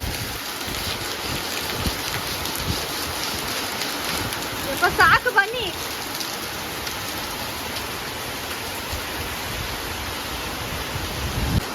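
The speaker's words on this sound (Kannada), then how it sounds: "ಆ ಕಡೆ ಕೆಟ್ಟ ಮಳೆ ಬರ್ತಿದೆ" Heavy first-of-the-year monsoon rain pours down steadily in a Malenadu compound, a dense, unbroken hiss throughout, with a brief spoken call from a woman partway through.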